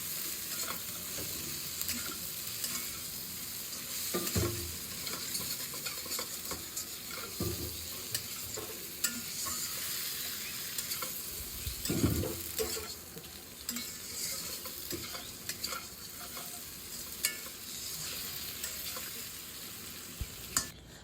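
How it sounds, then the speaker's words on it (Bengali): Vegetable curry with garam masala and chopped coriander leaves being stirred and fried in a pan: a steady, fairly soft sizzle runs throughout, broken by occasional scraping stirs, with no talking. "আর ধনিয়ার পাতা কুচি দিয়ে এটাকে মিশিয়ে ভেজে নিচ্ছে।"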